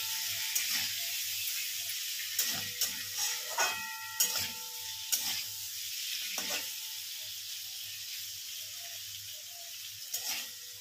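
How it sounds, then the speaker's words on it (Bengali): Soft paneer cubes fry lightly in a pan with a steady low sizzle, broken by occasional spatula scrapes and clinks as the pieces are stirred, fairly close and without talk. "খুব বেশি ভাজবো না, জাস্ট একটুখানি নেড়ে চেড়ে নেবো আর কি।"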